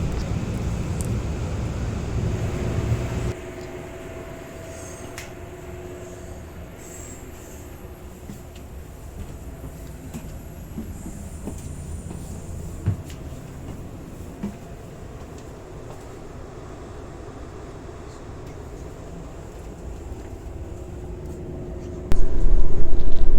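An Amtrak passenger train from Albuquerque to Los Angeles runs just after leaving San Bernardino, heard from inside as a continuous low rumble and rolling drone, louder at the start, with a sharp rise in noise at the very end.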